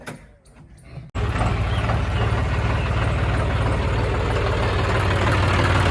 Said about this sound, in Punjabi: ਹੋ ਗਿਆ ਸਟਾਰਟ ਹੈ ਲਓ ਵੀ ਮਤਰੋ ਆ ਨਈ ਜੀ ਚੀਜ਼ ਨੇ ਭਾਜੀ ਟਰੈਕਟਰ ਸਟਾਰਟ ਕਰਤਾ